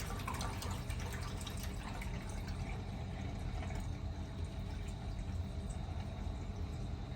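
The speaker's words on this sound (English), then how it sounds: "Just gonna drain all the water out." Rinse water pouring and draining off washed lentils (dal) in a restaurant kitchen, a steady trickling, splashing flow running continuously without pause at moderate level.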